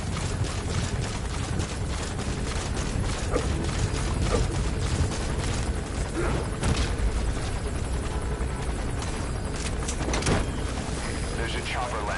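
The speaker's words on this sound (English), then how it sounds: "There's a chopper landing." A helicopter landing in the video game Metal Gear Solid V: The Phantom Pain, a loud continuous rotor roar with rhythmic thumping that persists throughout, with in-game voices talking over it.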